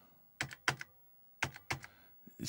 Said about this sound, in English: let's try the shift keys